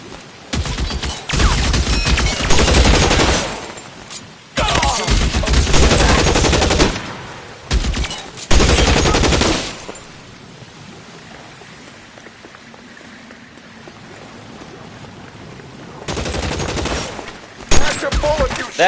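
Gunfire rattles through a shootout in the game L.A. Noire, loud bursts of rapid shots in several volleys with pauses between them, with quieter rain-like ambience in the gaps.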